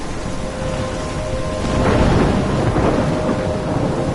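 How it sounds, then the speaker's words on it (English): Thunderstorm with heavy rain in the video game Life is Strange: a steady loud wash of rainfall with a low rumble of thunder swelling midway, no voices. "I'm trapped in a storm?"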